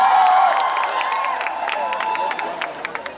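Students in a Lucknow University auditorium at a centenary celebration cheer and hoot as a crowd, a sustained roar with scattered sharp claps and shouts fading slightly over a few seconds.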